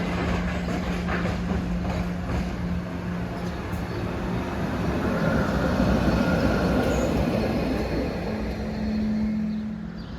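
SEPTA route 36 trolley approaching along the street, a steady rumble of wheels and motor that swells gradually toward the middle and holds, with a faint tonal hum at times, no voices.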